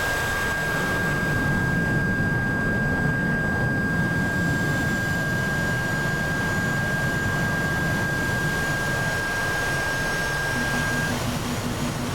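A jet plane engine in a flight simulator game, an F/A-18 Super Hornet, holds a steady, even roar with a constant whine running through it, loud and unbroken throughout, with no talk.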